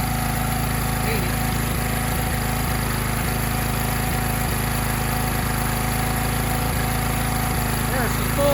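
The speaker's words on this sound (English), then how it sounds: "We're gonna turn her up so you can get some more RPMs out of it." A small engine generator fueled by biogas from food waste runs steadily at close range, a constant mid-pitched drone with faint periodic knocks, its note rising slightly as the throttle is turned up.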